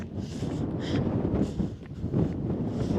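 Strong wind buffets the microphone at the Yunoyama ropeway in Japan, a steady low roar with gusts that swell and ease throughout.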